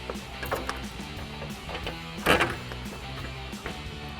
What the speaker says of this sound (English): we'll center up our bracket and tighten it down with that Phillips head screwdriver